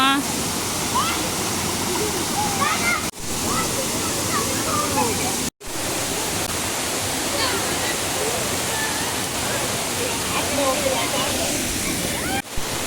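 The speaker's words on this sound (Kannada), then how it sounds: "ಅಚ್ಕನೆ ಫಾಲ್ಸ್ ವಾಟರ್ ಫಾಲ್ಸ್ ಅಂತೂ ತುಂಬ ಚೆನ್ನಾಗಿದೆ" Achchakanye Falls waterfall, a loud constant rush and splash of falling water filling the whole clip, with people talking and calling faintly over it.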